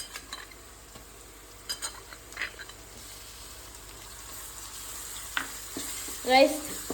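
Garlic paste fries quietly in a pan for a curry, with a soft sizzle under a few scattered scrapes and taps of stirring and a brief louder clatter near the end.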